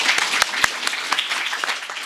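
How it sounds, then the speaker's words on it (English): Warm applause from a lecture audience welcoming a speaker to the podium, a short spell of scattered clapping with a few sharp, prominent claps up front, thinning toward the end. "Please give him a warm round of applause to welcome him to the podium tonight."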